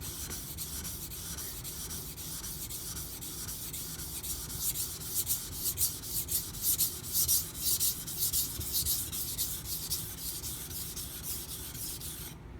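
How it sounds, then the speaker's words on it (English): A Karaku Bunka knife with an Aogami #1 steel blade being thinned on a 1K whetstone, giving steady, rhythmic abrasive scraping strokes that swell and fade in even back-and-forth passes, close and alone. "I'll probably be able to just start on a 1K stone."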